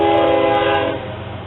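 Union Pacific GEVO locomotives haul an intermodal freight train bound for Los Angeles at Riverside, California, a loud sustained horn chord sounding close by over rumbling rail noise, then cutting off as the wheels keep rolling.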